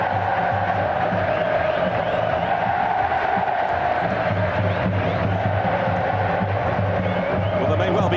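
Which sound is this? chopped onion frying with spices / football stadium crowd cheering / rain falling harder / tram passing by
football stadium crowd cheering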